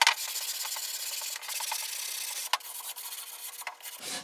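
Steady rasping strokes of hand sanding on a wooden pen blank, close up, with a rhythmic back-and-forth scratch and no talking.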